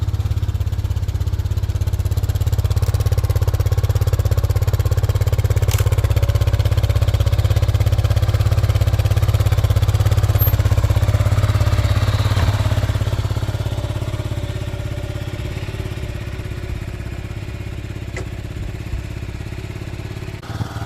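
A vehicle engine warms up at idle outdoors in the sunshine, a steady low rumble that holds for the whole stretch and eases slightly toward the end, with a few faint clanks over it and no talking.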